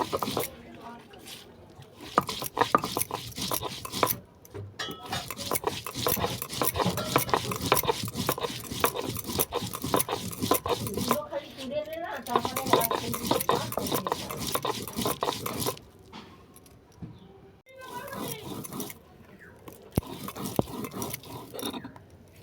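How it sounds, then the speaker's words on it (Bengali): Spices being ground into a paste on a grinding stone: rhythmic, gritty rubbing strokes repeated steadily, broken by brief pauses, close and moderately loud. "এগুলোকে সব বেটে নেব।"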